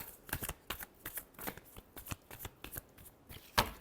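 Tarot cards riffle and slap in quick, rhythmic bursts as a deck is shuffled close by, with one sharper snap near the end.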